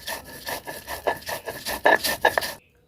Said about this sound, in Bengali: তো চলুন পোস্তটা আমি বেটে নেব।